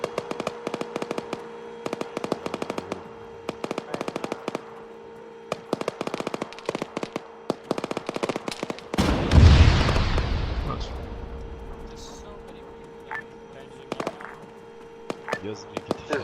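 Gunfire during a military field training exercise: sharp, rapid popping cracks come in clusters, then one loud blast rolls out and slowly decays, with faint voices and scattered shots continuing afterward.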